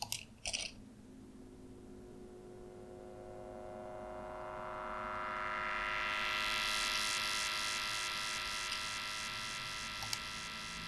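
Basic synth squelch made in Ableton without a resonator effect, a buzzy sustained tone that sweeps gradually upward in brightness and swells, then pulses rhythmically, with a few clicks at the start.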